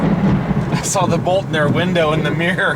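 Deep rumbling thunder from a lightning strike close overhead rolls on under a person talking inside a moving car.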